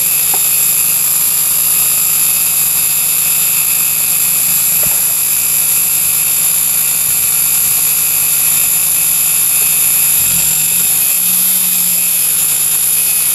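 Toyota Celica GTS, a 7th-generation car with its mass airflow sensor plugged in, runs with a loud, steady, high-pitched engine whine throughout, with a brief dip in the low end near the end.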